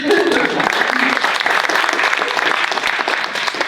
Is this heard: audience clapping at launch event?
yes